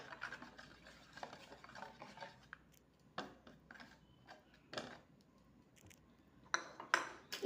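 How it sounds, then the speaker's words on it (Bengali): A spoon stirring salt through an egg vapa curry mixture in a bowl, soft irregular scrapes and clinks, quiet and close, with brief louder knocks toward the end. "স্বাদ অনুযায়ী লবণ ভালো করে মিশিয়ে নিতে হবে"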